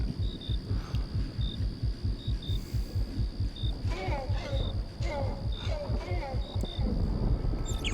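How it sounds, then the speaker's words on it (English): A creature's heartbeat in a game plays as a steady, deep rhythmic thumping throughout, pulsing roughly twice a second, with faint chirps and scattered tones layered above. "I can hear its heartbeat."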